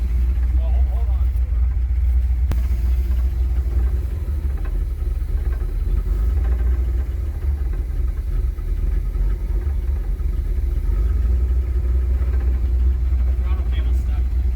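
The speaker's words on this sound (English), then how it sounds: "That's why it's idling that high. It won't go all the way to idle." With its throttle cable stuck, a 1977 Pontiac Trans Am engine holds a high, steady idle, a continuous loud rumble with faint voices in the background.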